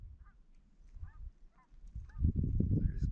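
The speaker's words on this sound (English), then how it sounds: "geese flying this late at night." Geese honk repeatedly at a distance, several separate calls spaced out, over a low rumbling background that grows louder toward the end.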